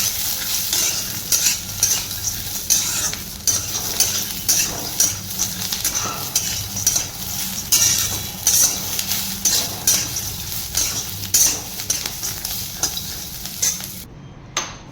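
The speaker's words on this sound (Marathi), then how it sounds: "जिरे, मिरची, कांदा, छान असं कांदा आणि मिरची परतून घ्यायचं आहे." Onion and green chilies sauté with cumin in a pan, a close sizzle punctuated by repeated scraping strokes of a spoon against the metal, steady rhythmic stirring for about fifteen seconds before it abruptly stops.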